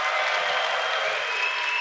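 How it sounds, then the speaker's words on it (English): Audience at a Cloud Next '19 developer keynote clapping, a dense, steady burst of applause from a large crowd lasting under two seconds. "can I get applauses for tabs?"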